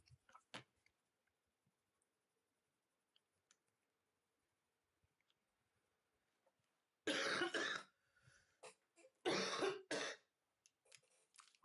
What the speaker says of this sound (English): this cough is not going to stop